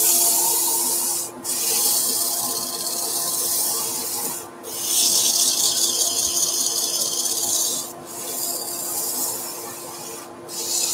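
A rough-turned wooden bowl is sanded with 150 grit abrasive on the spinning lathe, a loud, continuous hissing rub that pauses briefly three times before resuming.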